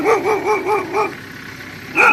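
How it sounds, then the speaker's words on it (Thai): A dog barks about five times in a quick series, fairly close, pauses, then lets out one more bark, outdoors in a flower garden at dusk. "เสียงน้องหมาเห่า"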